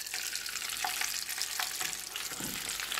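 Egg foo young frying in grease in a wok, a steady close crackling sizzle with a brief ladle scrape partway through, no voices.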